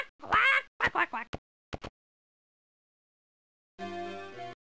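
Cartoon duck quacks from the quackaroo in Dr. Seuss's ABC computer game, a short burst of nasal, voiced quacks followed by a silent gap and then a sustained tonal chime, all close and clear.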